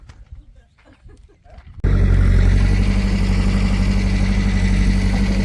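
After a quiet, muffled start, a heavy tractor engine roars to life and keeps running loudly at a steady idle with low rumbling vibration, at a farm loading manure.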